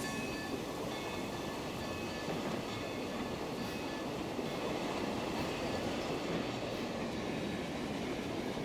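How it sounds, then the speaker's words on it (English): A four-coach passenger train runs in the video game Transport Fever 2, giving a steady, unbroken rolling rumble with faint clickety-clack and a soft hiss, holding the same level throughout with no talk. "And there's passenger train line 2"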